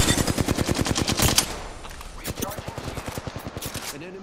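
An automatic weapon in Apex Legends fires a fast, even stream of shots, pauses, then resumes another rapid burst before stopping as it overheats; a voice briefly speaks among the shots.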